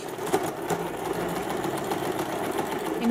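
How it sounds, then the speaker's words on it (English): Sewing machine stitching a piece of fabric held at the 3/8 mark, a steady close whirring drone with a rhythmic needle chatter running throughout, with no talking. "if I place this piece of fabric at the 3/8 mark, for example, and I stitch"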